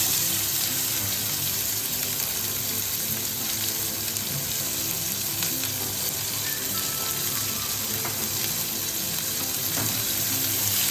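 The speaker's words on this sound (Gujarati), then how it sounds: "બે નંગ મોટી ડુંગળી છે એને એડ કરશું આપણે" Two large chopped onions hit hot oil with cardamom in a pan for a restaurant-style paneer lavabdar gravy base, giving a loud, continuous frying hiss throughout, with no talking.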